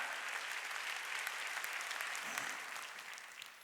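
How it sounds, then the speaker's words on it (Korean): A church congregation gathered for a Wednesday worship service applauds steadily, a dense, even wash of many hands clapping that holds for several seconds and fades slightly at the end. "박수 치자"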